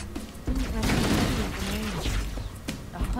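Plasma pistol fire in Halo: Combat Evolved Anniversary, a dense, loud stretch of overlapping energy shots and impacts running through the whole moment with tonal whoops, alongside other combat noise.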